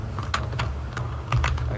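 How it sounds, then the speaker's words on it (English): Quick bursts of sharp, clicky keystrokes come from an old-fashioned mechanical computer keyboard, typed in uneven clusters close to the microphone. "it's like he's typing or has one of those like old fashioned keyboards"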